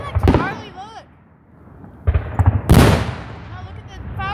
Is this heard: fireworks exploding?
yes